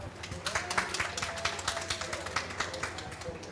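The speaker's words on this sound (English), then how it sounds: "So let's give ourselves a round of applause." Audience clapping at a conference session on healthy soil and the Rio Conventions, a fairly quiet, scattered round of applause with distinct individual claps.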